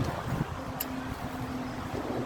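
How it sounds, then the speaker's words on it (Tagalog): Steady wind rushes across the microphone in a continuous low rumble, with faint background murmur beneath it. "mahangin mahalamig na ang hangin"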